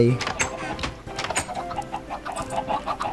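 A chicken in Minecraft clucking in quick, choppy bursts close up, the clucks repeating steadily over a few seconds with a voice talking underneath.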